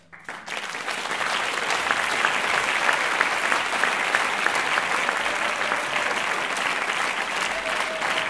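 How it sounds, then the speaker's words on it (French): Sustained audience applause after a talk at La Journée de L'Audace 2016 event, a dense, even roar of many hands clapping that starts abruptly and holds steady throughout. "Applaudissements pour Richard, pour ce témoignage authentique, humain"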